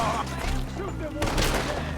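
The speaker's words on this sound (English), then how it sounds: "Shoot them while" Gunfire during a shootout in Red Dead Redemption 2, a dense crackle of shots over a low rumble, with voices shouting over the noise.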